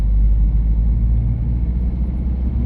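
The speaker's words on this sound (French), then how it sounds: "Le moteur est assez présent dans l'habitacle quand on monte un peu dans les tours." Steady low engine drone inside the cabin of a 2004 Peugeot 307 QuickSilver with a 110 hp turbo engine while driving, a continuous deep rumble filling the car, loud and unbroken with no talk.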